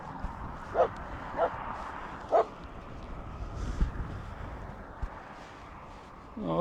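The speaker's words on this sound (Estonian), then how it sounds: "mingisugused koerad siin kõrval" Several dogs bark in short sharp yips nearby along a rural stretch of the Camino Francés in Spain, with a few spaced barks over steady outdoor ambience and a final whine at the end.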